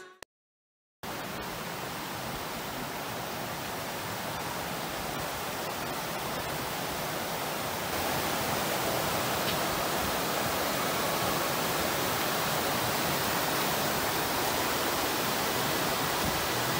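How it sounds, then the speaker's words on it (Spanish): Ala de Ángel waterfall in Chiapas, a dense, steady rushing roar of falling water that starts abruptly after a brief silence and holds loud and unbroken throughout, with no voices. "El primer día visité la cascada Ala de Ángel, la cascada Corona"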